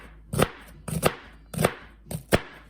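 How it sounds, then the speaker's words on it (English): Knife chopping an onion on a cutting board: five crisp, evenly spaced thunks at a steady rhythm, close and clear, with no talking. "So this is how I cut my onion."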